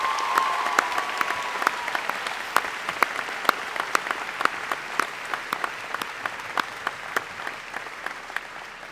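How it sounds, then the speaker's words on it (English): An audience at a college convocation gives a round of applause, many hands clapping evenly, with sharp individual claps standing out at moderate volume from start to finish. "Can we give one more round of applause for Coach Heather Ott, please?"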